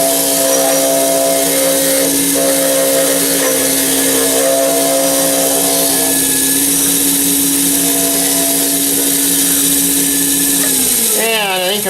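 A wood lathe spins a wooden pen blank with a steady, loud motor hum and a faint scraping tool edge, running evenly before spinning down near the end.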